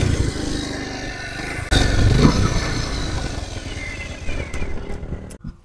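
A Bajaj Pulsar motorcycle engine runs close and loud, a rough steady idle that swells in a short rev before cutting off abruptly at the end.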